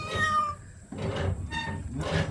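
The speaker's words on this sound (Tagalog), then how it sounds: "Ito ang mga reaction video ng mga pusa kapag sila ay pinaliguan." A cat meows several times in drawn-out, plaintive cries during a bath, close up, with short pauses between calls over a noisy background.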